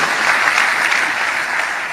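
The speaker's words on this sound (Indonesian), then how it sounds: "Tepuk tangan bagi Tuhan Yesus." A church congregation breaks into steady, loud applause, a full and even wash of clapping from many people with no speech over it.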